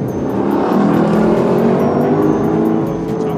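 A 2017 Lexus LC 500 at full throttle on a driving course, its engine roaring loud and close in one sustained, rising pull with no pause.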